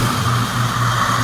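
A 1992 Ford Mustang GT engine running, a steady low rumbling idle close by with a constant mechanical drone and no clear revving.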